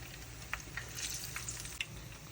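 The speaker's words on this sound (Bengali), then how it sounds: "আপনার বেগুনি গোল্ডেন ব্রাউন করে মিডিয়াম হিটে সময় নিয়ে একটু ভেজে নেবেন" Eggplant fritters (beguni) frying in oil over medium heat, a soft steady sizzle broken by a few sharp pops and crackles, close and alone.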